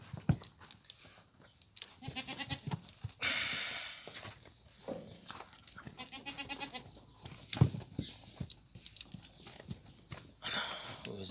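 Several goats bleat in wavering cries at close range, with hooves clattering and a person speaking now and then.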